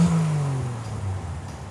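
A 1968 Triumph TR250 engine revs once close by, the pitch rising sharply and then falling away into a settling idle rumble, with no talking over it.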